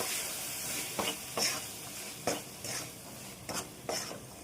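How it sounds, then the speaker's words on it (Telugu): Sweet corn is stirred with salt in a frying pan: a soft, continuous sizzle with several distinct scraping strokes of a spatula against the pan, fairly quiet and close. "దీంట్లో మీ టేస్ట్కి తగ్గట్టుగా కొద్దిగా సాల్ట్ని యాడ్ చేసుకొని ఒకసారి బాగా మిక్స్ చేసేయండి"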